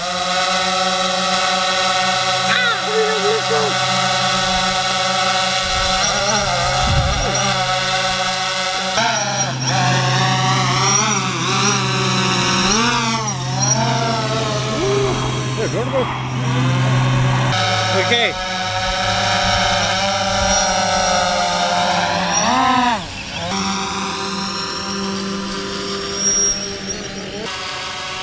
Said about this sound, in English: And there's a drone up there.